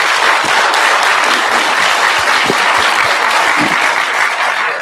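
Full, loud audience applause for a panel discussion, a dense continuous wash of clapping sustained evenly throughout with a few distant voices mixed in.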